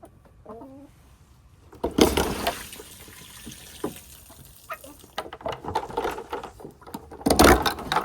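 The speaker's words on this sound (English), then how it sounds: "Let the fresh water come out." Fresh water runs out of a tap or hose on a rural homestead in North Carolina, a splashing, gurgling flow that swells louder at moments, with chickens clucking nearby.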